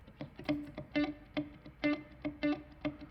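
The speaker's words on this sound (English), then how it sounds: "Something else to keep the rhythm going on top of the percussion is this single note guitar I've got going." A clean electric guitar plucks a single repeated note in a steady rhythm, each pick ringing briefly with a light reverb tail.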